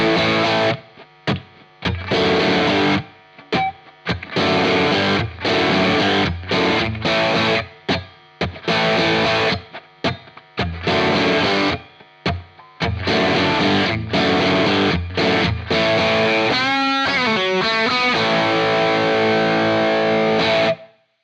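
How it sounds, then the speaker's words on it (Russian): Electric guitar with a single-coil bridge pickup through overdrive plays chugging riffs in loud, stop-start bursts, heard alone and close throughout. "давайте послушаем, как звучит сингл на рифах на перегрузе."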